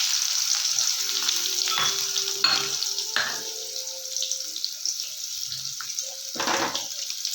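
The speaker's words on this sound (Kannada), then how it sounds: "ಇವಾಗ ಉಳ್ಳಾಗಡ್ಡಿ ಹಾಕೊಳ್ಳೋಣ." Onions dropped into hot oil already sizzling with cumin seeds and curry leaves, a steady frying hiss with clinks and brief scraping bursts as a spoon stirs the pan, close and alone.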